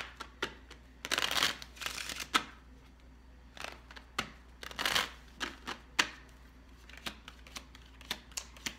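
Tarot cards are shuffled and pulled during a reading: quick bursts of riffling and soft slapping card clicks, close and fairly quiet, with short pauses between the flurries.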